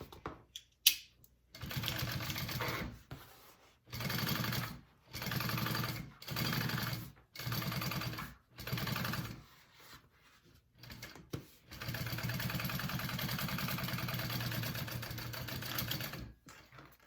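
A sewing machine top stitches a backpack pocket in several short bursts of rapid, close whirring and needle chatter, split by brief pauses, ending in one longer steady run.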